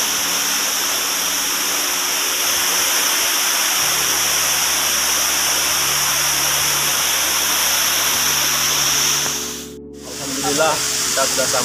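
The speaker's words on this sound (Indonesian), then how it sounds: "Alhamdulillah kita sudah sampai di air terjun Sarasah Patangnango." The Sarasah waterfall in Indonesia roars as a loud, constant broadband rush, close and dense, dipping briefly near the end as a voice speaks over it.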